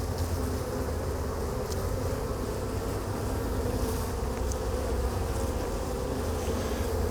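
Honey bees buzz steadily and densely throughout a hive inspection at an apiary, a close, continuous drone with faint intermittent clicks and no talking.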